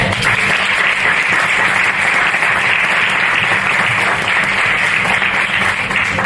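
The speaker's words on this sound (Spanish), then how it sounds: "un fuerte aplauso, por favor" Loud, sustained applause from a large audience at a business conference on generative AI in Extremadura, dense steady clapping filling the whole stretch without a break.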